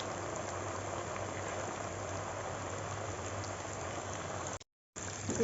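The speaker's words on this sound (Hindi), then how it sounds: "अब मैं इसको फ्राई डाल देती हूँ।" Zinger burger chicken pieces frying in hot oil, a dense steady crackling sizzle like rain on a surface, continuous and fairly close, briefly cutting to silence near the end before the sizzle resumes.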